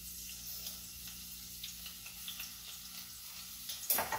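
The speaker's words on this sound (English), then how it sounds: "There we have a little teaspoon of minced garlic. You want to cook that around a little bit." Minced garlic, about a teaspoon, sizzles and crackles steadily in a hot pan while cooking for curry shrimp, a soft continuous frying hiss with light stirring and a brief louder scrape near the end.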